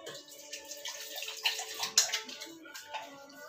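Water poured into idli batter in a bowl to thin it slightly, a steady close trickle and splash with small bright drips, no voices.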